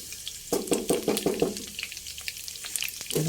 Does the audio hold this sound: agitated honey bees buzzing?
no